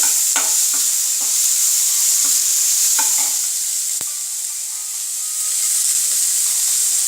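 Chopped onion frying on a low flame in a pan for stuffed aloo paratha, a loud continuous sizzle with several scraping stirs and one sharp knock midway, close up and free of talk.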